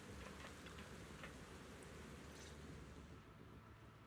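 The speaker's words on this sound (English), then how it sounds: "And it is raining. It is pouring." Pouring rain in the Zenless Zone Zero video game, a dense, steady hiss of downpour filling the whole stretch at a constant level, with no voices.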